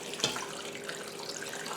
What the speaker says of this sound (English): I'm just going to add water.